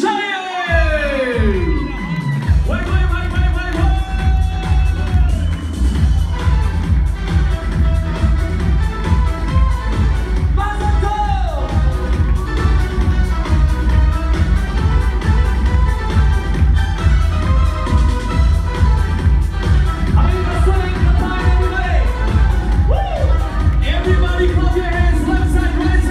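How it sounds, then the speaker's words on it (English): A crowd cheers and applauds at a family celebration for David and Eleonora, with loud, continuous whoops and clapping mixed under dance music that plays throughout. "Everybody clap your hands for David and Eleonora with their wonderful children, Abigail and Ethan Alishaya."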